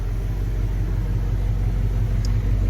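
A 1969 Dodge Dart GT convertible sits idling with a carbureted engine, producing a steady low rumble that stays even and close throughout with no voices.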